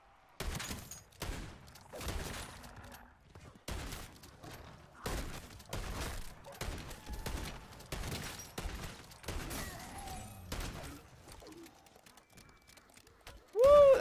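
Rapid bursts of gunfire from a gun in a zombies shooter game, a dense run of sharp repeated shots with brief gaps, then a short mechanical reload clack near the end; a voice speaks faintly between shots.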